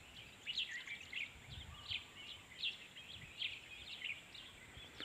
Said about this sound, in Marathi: चिमण्यांचा आवाज येतो आहे, किलबिलाट येतं आहे